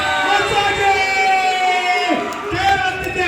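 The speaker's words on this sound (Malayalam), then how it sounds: "ഇതാ കാണികൾ വിളിച്ചു പറയുന്നു" Spectators shout and cheer at an arm wrestling final in Kerala, raised voices and whoops rising and falling together over talking.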